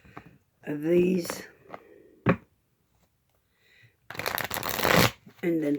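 A deck of playing cards shuffled in quick riffling bursts, close and crisp, alternating with a person talking.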